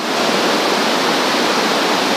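A waterfall at Amboli, its water plunging over rock in the monsoon, fills the space with a loud, even roar that never lets up, with no voices.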